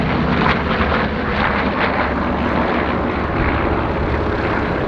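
A Grumman Bearcat, a piston-engined propeller warbird, flying at the Sywell Airshow in 2024, its engine a loud, sustained droning roar that holds steady throughout with slight swells, and no voices over it.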